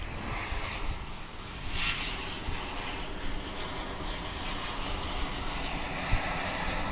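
An American Airlines Airbus A319 jet at DFW International Airport gives a steady, broad roar that holds at an even loudness throughout, heard from a moderate distance with no talk.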